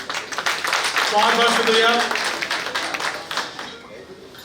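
An audience at the All India Unani meet in Delhi applauds to welcome guests. A continuous wash of clapping builds and then fades, and someone briefly speaks a word of thanks over it.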